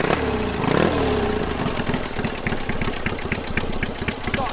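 A 1970 Triton 750 cafe racer with a magneto is kick-started, the engine catching after a brief crank and settling into a loud, close, lumpy idle with a steady rapid thump.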